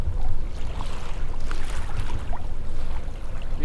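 Sailboat engine revving up: a low, steady rumbling drone with wind and water noise over it, rising slightly in strength, heard from on board.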